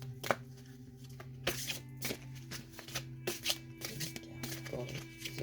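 Oracle cards being shuffled by hand for a tarot-style reading, with a series of soft, close riffling and tapping bursts spread irregularly through the stretch against a quiet room hum.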